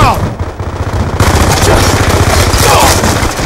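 Rapid automatic gunfire from Call of Duty: Black Ops 2 on the Wii U, played on the Express map, rattles loud and dense throughout, with a scoped Type 25 rifle.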